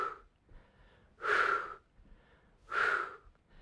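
Two strong, breathy exhalations and inhalations during a back-straight balance exercise, each swelling for about half a second with a quieter pause between, close to the microphone and with no talking.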